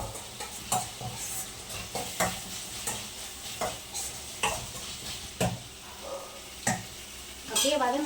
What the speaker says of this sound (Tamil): அதுக்கான மசாலாவை வறுத்துக்கலாம்